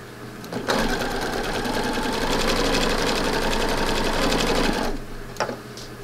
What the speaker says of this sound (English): I'm going to chain piece these too.